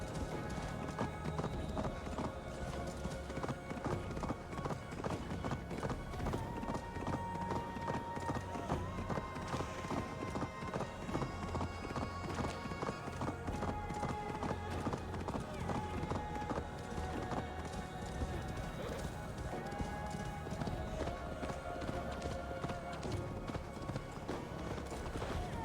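Horse hooves galloping in Assassin's Creed Valhalla, a continuous rapid clip-clop rhythm under game music and ambient sound, sustained and fairly even throughout.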